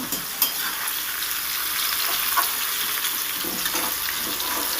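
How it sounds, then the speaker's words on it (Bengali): Drumstick stalks and vegetables fry in a pan for a light Bengali vegetarian curry while being stirred, giving a continuous close sizzle with scraping stirs and small clatters. "খুব একটা বেশি ভাজবো না হালকা করে নেড়ে চেড়ে আমি তুলে নেবো"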